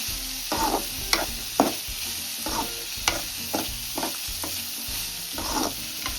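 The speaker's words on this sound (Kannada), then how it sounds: "ನೀಟಾಗಿ ಎಲ್ಲ ಫುಲ್ ಗೋಲ್ಡನ್ ಕಲರ್ ಹಂಗೆ ಹುರ್ಕೊಬೇಕು" Ingredients including green chillies fry in a pan for a village-style greens dish, a constant close sizzle punctuated by rhythmic stirring scrapes and sharp clinks of a spoon against the pan.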